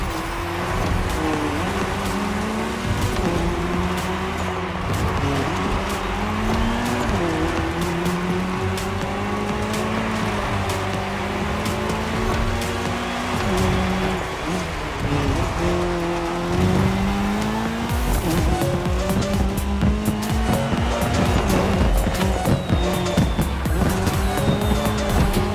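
Race cars on tarmac in a cross-terrain racing game, engines droning and shifting pitch continuously as they rev and change gear, with occasional tire squeal, loud and steady throughout.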